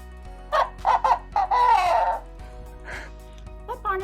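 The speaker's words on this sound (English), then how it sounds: "take your dampened sponge, hold onto the string, and you can make some very cool barnyard sounds" A cup-and-string noisemaker rubbed with a damp sponge squawks out barnyard animal calls, several short honking bursts then a longer wavering bleat-like call, with a few fainter squeaks after, close and loud.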